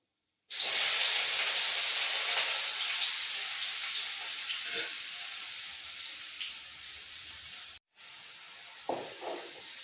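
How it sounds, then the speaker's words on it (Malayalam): Crushed ginger, garlic and shallots dropped into hot oil with dried red chilies for Kerala kadala curry, bursting into a loud, steady sizzle that fades slightly, breaks briefly, then resumes with a few stirring knocks. "ഇനി ഇഞ്ചി, വെളുത്തുള്ളി, ചെറിയുള്ളി ചതച്ച് വെച്ചതിട്ട് കൊടുക്കാം."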